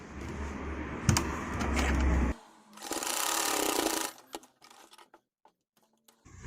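A sewing machine stitches a fabric sleeveless top in two close bursts of rapid whirring, the first about two seconds long, followed by quieter clicks and handling noises as it stops.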